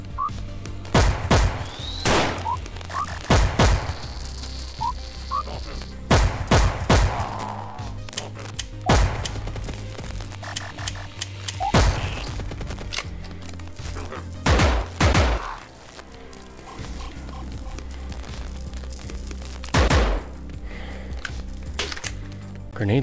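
Gunfire in the VR shooter COMPOUND, a string of loud sharp shots spaced irregularly over the scene, close and punchy, with a voice speaking in between.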